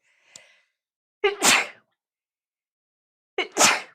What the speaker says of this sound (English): I don't mean to sneeze in your ear.